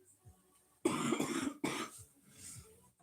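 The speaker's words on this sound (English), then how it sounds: "let me cough it out here" Two rough, close coughs in quick succession from one person, each a short harsh burst with throat clearing, in an otherwise quiet room.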